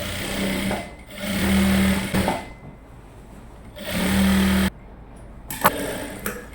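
A sewing machine stitches a short gown in two sustained bursts of steady mechanical whirring, each running a couple of seconds, separated by quieter pauses with small handling clicks and rustles.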